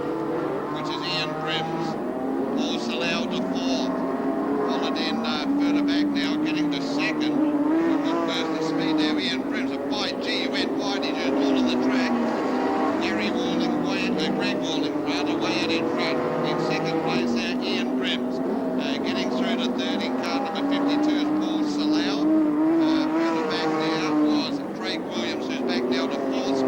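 Modified sedan race cars roar along the straight at a 1997 Australian title meeting at Murray Bridge, engines droning and shifting pitch as they pass, under steady commentary from an announcer.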